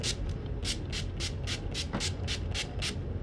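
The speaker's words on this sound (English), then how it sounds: "Just go ahead and add some more spray to your face." Rapid hissing spritzes from a pump bottle of makeup setting spray onto a face, about ten quick bursts in a steady rhythm, close by and fairly soft.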